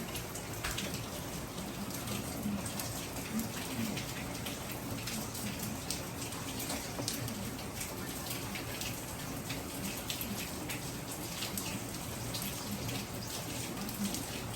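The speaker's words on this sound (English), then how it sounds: "but yes, it is raining." Steady rain pours down with a constant hiss, punctuated by scattered drips and taps on nearby surfaces, with no talking.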